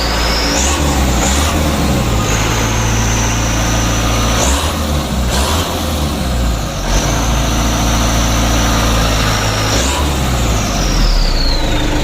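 Diesel engine of a Mitsubishi Canter HDL truck revved repeatedly, loud and close, climbing in pitch and dropping back to idle several times.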